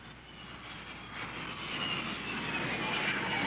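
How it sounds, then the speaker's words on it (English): Jet aircraft engine roaring steadily aboard the aircraft carrier USS Shangri La during landing operations in 1956, a broad continuous rumble that slowly swells louder without breaks. "Standing by to land aircraft."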